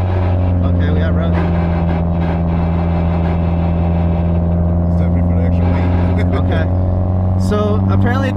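Engine of a 1990 Toyota Camry with a turbo, heard from inside while driving as a steady, loud, droning hum with little change in pitch, with faint talk in the cabin.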